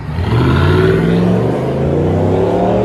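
A Chevy Silverado 5.3L V8 fitted with a Borla Touring exhaust and intake revs up loudly and holds a rising, deep droning engine note that eases slightly near the end, close by with no talking.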